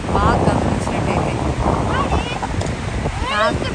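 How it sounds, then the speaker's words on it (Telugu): Sea waves wash steadily against the coast beneath the Sea Cliff Bridge near Sydney, a broad continuous surge with gusting wind noise on the microphone. A person talks over the water. "అలలు ఇలా ఇలా ఇలా ఉన్నాయి చూడండి"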